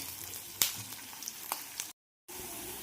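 Garlic and ginger pieces with onion sauté in a pan, giving a quiet sizzle broken by a few sharp spoon clinks and scrapes, with a brief dropout near the end.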